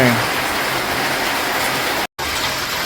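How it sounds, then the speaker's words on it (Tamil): Heavy rain pours down in a dense, steady outdoor hiss, loud and close, with a brief dropout near the end. "நல்லா மழை பெஞ்சுக்கிட்டுருக்கு"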